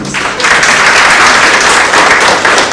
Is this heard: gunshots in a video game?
no